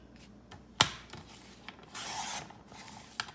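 Planner paper is cut with scissors or a trimmer: a sharp snip, then a longer rasping slide across the sheet and a final small click, quiet and close.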